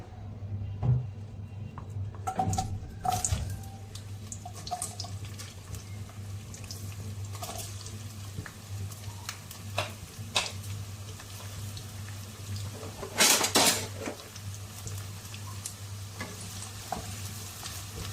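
Onions frying in heated oil for masala semiya, giving a steady, fairly close sizzle with occasional sharp clinks and scrapes of stirring, and no voices.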